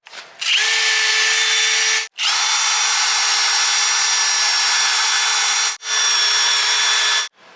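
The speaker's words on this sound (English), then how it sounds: "once we scrub it down with our wire brush, we got it nice and clean" A drill-mounted wire brush scrubs a car's brake caliper, loud and close, in three sustained bursts with a high whine. The bursts are split by two very brief stops.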